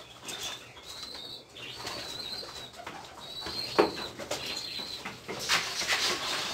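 Pigeons coo in soft repeated warbling calls close by, with bursts of wing flapping and light scuffling as they are fed, under a faint background hum.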